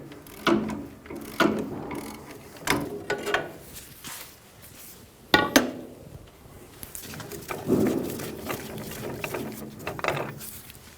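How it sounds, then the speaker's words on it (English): Repeated ratchet clicks come in short bursts, close and moderately loud, as a ratchet works a ball joint press on a Toyota Tacoma's upper control arm, with quieter gaps between pulls. "I'm going to hold on that bar as I pull on my ratchet."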